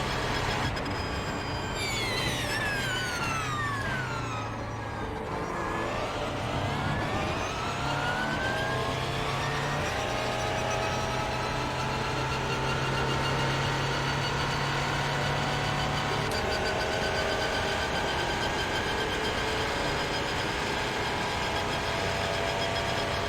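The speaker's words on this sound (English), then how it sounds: "here comes another Porsche though" A Porsche race car engine in the iRacing game drones steadily, its pitch sweeping down as the car slows and then holding a sustained mechanical hum, loud and close throughout.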